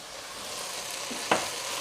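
Mushrooms cook in a pot, giving a steady close sizzle with a single brief scrape of a stir near the end.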